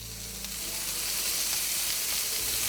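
Asparagus spears sizzle steadily in a hot pan, a continuous bright frying hiss that builds slightly and holds without any talking.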